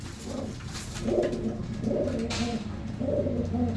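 Pure Punnu pigeons coo in repeated soft, throaty phrases at close range, about three calls in a few seconds against a low background hum, with no voices.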